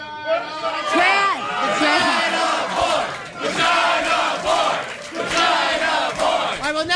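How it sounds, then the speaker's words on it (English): An audience yells and cheers in loud bursts, shouting voices overlapping in waves with brief dips between, close and energetic, with some chatter mixed in. "they're just yelling"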